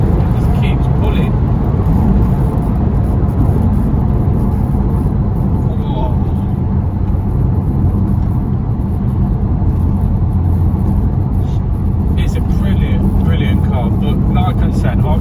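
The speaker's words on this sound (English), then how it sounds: "if I come back, hold back, and then the turbos kick in, it just keeps pulling." Porsche 997 Turbo accelerating hard as its turbos build boost, a loud, continuous engine roar and rumble from inside the car that keeps pulling without a break.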